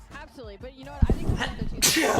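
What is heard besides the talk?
sneeze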